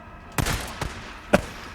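An inaccurate gun fires in the game Days Gone, with three sharp shots spread unevenly over a brief moment: two close together and a third a little later, fairly loud against a quiet background.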